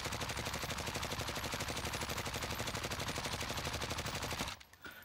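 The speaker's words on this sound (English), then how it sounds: "Now we wanna empty a clip at the wall here and see what the weapon's recoil is going to do." A video game gun empties a full magazine at a wall, rapid evenly spaced automatic shots firing loudly and continuously for several seconds before cutting off abruptly into a faint tail.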